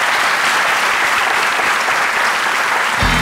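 A theatre audience at Kadıköy Duru Tiyatro claps loudly and steadily in a full, even wash of applause lasting the whole moment, with no voices standing out.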